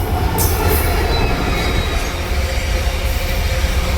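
Train rolling past on the tracks near the Hanuman Dada temple at Juna Nesda, a loud, steady roar of wheels and carriages with faint high squeals and rail clatter, continuous and close throughout with no voices.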